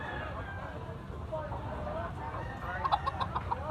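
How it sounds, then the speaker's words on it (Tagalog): A Kelso bloodline rooster clucks in short, moderately near calls over a low rumbling background, with a small run of higher squawks toward the end. "Manok ni Boyax."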